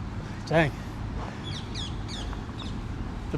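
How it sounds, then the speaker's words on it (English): Birds calling outdoors: a loud, close crow-like caw early on, followed by several quick chirping calls and tweets at moderate distance over a steady background. "The birds are really chirping today."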